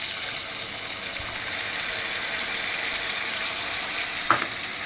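Spice paste with black cumin fries in a pan with a steady, bright sizzle as water is poured in from above, with a brief splashing burst near the end.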